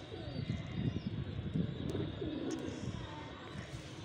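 Low, soft pigeon cooing from a nesting pigeon pair, steady murmuring coos close by with faint chirps above and no talking.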